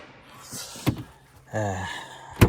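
A freezer door in a travel trailer swings shut with a soft thunk, followed by a brief mechanical whir and a second sharper knock, all close up in a quiet interior.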